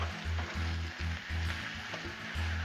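Chorizo and meat frying on a Blackstone griddle, giving a close, steady sizzle with a rhythmic scraping pulse from stirring about every half second; no talking.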